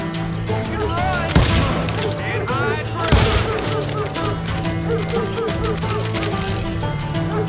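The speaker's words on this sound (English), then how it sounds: "Stay on it! Cover fire!" Gunfire in the video game Call of Juarez: Gunslinger: rapid volleys of shots with a couple of heavy louder blasts, layered under shouted voices and background game sound.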